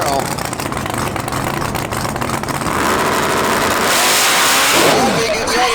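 A 716 cubic inch Camaro drag races at a Woodbridge, Ontario street-class event, its engine roaring and revving loudly, building to a sustained high-pitched scream under an announcer's voice.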